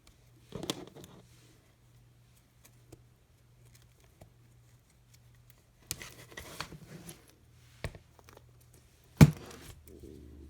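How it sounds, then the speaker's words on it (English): Scissors snip through fabric just above the stitches near a zipper on an in-the-hoop embroidered softball bag, with a few faint, sparse cuts and rustles over a quiet low hum. "I'm cutting right above the stitches."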